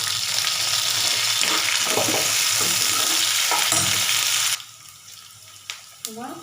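Whole garlic cloves and curry leaves frying in a pan give a loud, continuous sizzle for about four seconds, then it cuts to quieter background with a few faint clinks.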